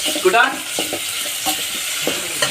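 Onion fries in a pot over a wood-fired stove while cooks make chicken for a party; a steady sizzle runs under regular, close scrapes of a stirring spoon about every second.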